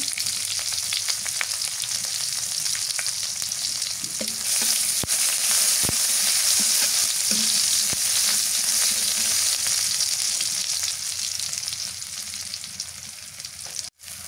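Onions and black cumin fry in hot mustard oil, a loud continuous sizzle close by, with a few brief clinks of stirring and a sharp knock near the end.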